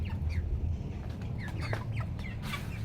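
White broiler chickens and a rooster in a poultry coop, steady soft clucking and chirpy calls repeating close by, no talking.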